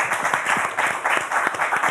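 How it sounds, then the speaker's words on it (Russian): A studio audience on an evening talk show claps together, with dense, even applause holding steady and moderately loud for under two seconds. "а пока что эти аплодисменты тебе"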